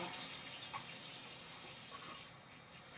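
Kitchen tap running while hands are washed, a faint steady hiss of flowing water with no talk.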